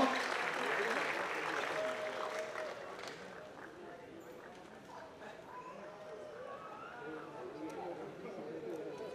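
Audience applause at a Tamil film music launch event as an actress is called to the stage, a broad steady patter of many hands mixed with crowd murmur and a speaking voice, fading slightly midway.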